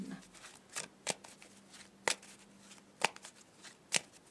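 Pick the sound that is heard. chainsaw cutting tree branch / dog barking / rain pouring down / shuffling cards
shuffling cards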